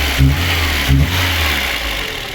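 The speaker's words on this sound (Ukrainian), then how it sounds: "Автомобіль зараз працює на газу" A VAZ 2115 car engine running on LPG rumbles steadily close by, two short surges in revs near the start, then settles into an even idle.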